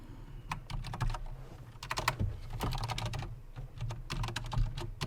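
Fast, uneven clicking from fingers typing on a computer keyboard, close by, in quick bursts with short pauses over a low steady hum.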